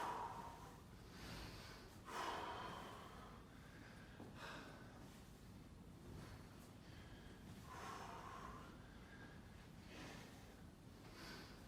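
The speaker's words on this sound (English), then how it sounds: "still breathing heavy" Heavy breathing of a person recovering after a TRX workout at home, a series of loud, close, audible inhales and exhales at an irregular rhythm, with occasional sharper snorting breaths.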